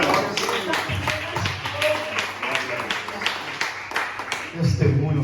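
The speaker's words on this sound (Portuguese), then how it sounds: "Aplauda ao Senhor." Congregation clapping in praise during a church service, a steady run of sharp claps through the whole stretch, with a voice and music sounding over it.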